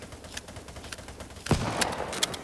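Shotgun blasts in the mobile shooter Battle Prime, a sharp boom standing out around the middle, with a couple of smaller pops and clicks over a low game background.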